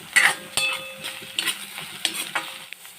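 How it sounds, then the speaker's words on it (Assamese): Potato pieces going into browned fried onions in a pan for a fish head and banana flower dish, with a continuous sizzle and repeated metallic scrapes and knocks of a spoon stirring, close by and with no voices. "পিঁয়াজখিনি সম্পূৰ্ণৰূপে ভাজি হোৱাৰ পাছত আলুখিনি দিছোঁ।"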